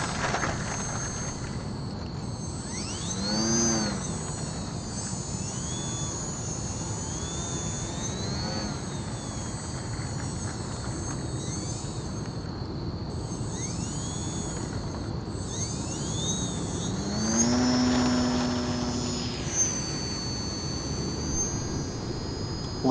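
An H-King Savage Bobber compact STOL RC model airplane, a Cub-inspired bush plane, slipping down to land with its electric motor droning steadily throughout, pitch sweeping up and down as the throttle changes, with a rising whine near the end.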